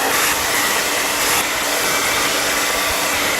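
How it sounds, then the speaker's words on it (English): Steady loud rush of a blow dryer aimed at wet paint on an art piece, a continuous close airy hiss with no breaks and no talk. "I'm probably gonna have to put a blow dryer to it"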